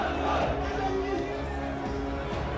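A large protest crowd in Bannu, Pakistan, gathered at a city chowk, heard as a dense roar of many voices and chatter, steady and moderately loud throughout with no single voice standing out.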